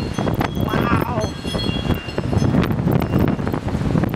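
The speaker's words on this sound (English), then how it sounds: "Wind is really up." A strong windstorm gusts loudly and continuously, with heavy buffeting on the microphone, loose objects clattering as they blow over, and a person talking over the roar.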